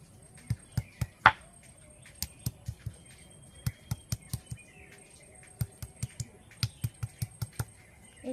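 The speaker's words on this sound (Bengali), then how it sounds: "এইভাবে হালকা হালকা করে থেঁতো করে নেব সবগুলো বাঁশ" Tender young bamboo shoots with sesame are lightly crushed for chutney, producing quiet, close, repeated sharp taps and thuds in irregular bursts of a few strikes with short pauses between them.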